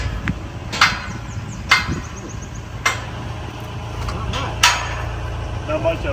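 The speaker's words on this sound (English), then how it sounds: "Maybe try hitting this side of the flange." A hammer strikes the steel flange of a 42 x 80 ft Calhoun fabric structure frame, giving about five sharp metallic clangs at irregular intervals over a low background rumble.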